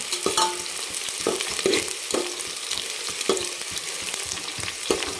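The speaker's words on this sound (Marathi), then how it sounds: "छान पनेरी कलर येईपर्यंत आपल्याला हा कांदा चांगला परतून घ्यायचा" Onion frying in hot oil for a chicken thali, a steady close sizzle with repeated scraping stirs of a spatula against the pan, no voices.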